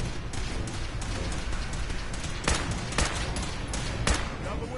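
Rifle gunfire in Fallout 4: several sharp shots crack out at irregular intervals over a busy background of combat noise and rumble.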